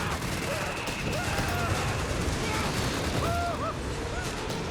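Mortar and other battle fire in the strategy game Company of Heroes 3, a dense continuous rumble of distant gunfire and blasts with whistling shells, and game voices mixed in.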